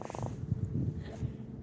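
A caught redfish on a Florida saltwater fishing trip makes a low, rapid purring drone, a short throbbing burst close by, followed by faint rumbling.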